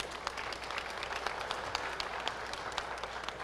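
An audience at a panel discussion gives steady applause, a dense wash of many hands clapping, moderately loud and unbroken throughout.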